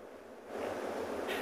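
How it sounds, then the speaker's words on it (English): River rapids in the Maasai Mara rush steadily, a broadband roar of water that grows slightly louder partway through, with no voices. "when I listen to the rapids, I always enjoy their sounds"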